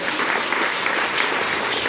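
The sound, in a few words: congregation applause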